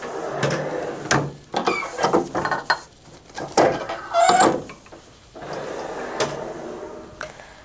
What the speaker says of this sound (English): I'm going to load my garment onto the platen and preheat to remove any moisture or wrinkles.